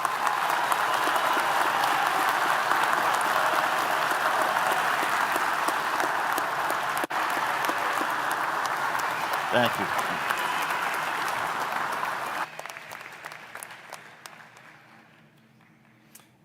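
Long, steady applause from a large audience fills the hall for graduates at a commencement ceremony. It holds evenly for over ten seconds, then thins out and tapers away while a voice speaks over the tail.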